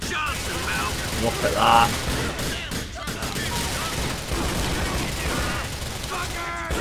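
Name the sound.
shotgun fire from video game GTA IV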